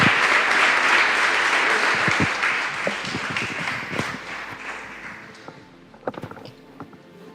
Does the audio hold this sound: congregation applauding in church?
yes